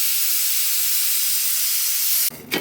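A pressure cooker hisses steam after two whistles, a loud, steady rush that runs close and continuous, then drops abruptly and sputters briefly near the end.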